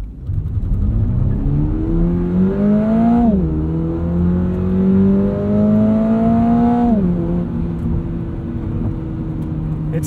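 A 2022 Subaru BRZ Premium with an automatic gearbox launches hard in sport mode with traction control off, its engine note climbing steadily, dropping at a quick upshift, then rising again through the next gear, loud and close.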